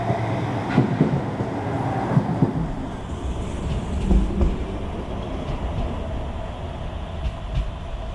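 A Manchester Metrolink tram travels between Cornbrook and Trafford Bar, heard from on board as a steady rumble with intermittent clicks and thumps over the rails.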